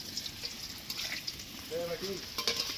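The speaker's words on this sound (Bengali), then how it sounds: "আলুটা ভাজা হচ্ছে" Potatoes fry and sizzle in a pan while meat is cooked for a birthday meal, a steady soft crackle running throughout with brief voices and clinks breaking in near the end.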